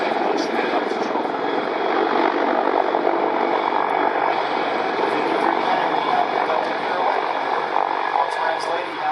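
Sikorsky CH-53K King Stallion heavy-lift helicopter at the ILA 2018 air show, a steady loud rotor and engine drone with a constant hum, while a commentator talks over it.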